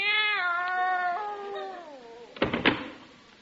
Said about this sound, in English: There's nothing in there but a cat